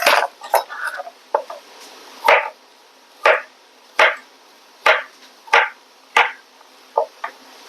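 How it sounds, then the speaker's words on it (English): A knife chops a peeled vegetable on a board for beef stew, about a dozen crisp, close knocks in a loose, quick rhythm, with brief pauses and a quiet background. "I'm just going to chop it up real quick and add it."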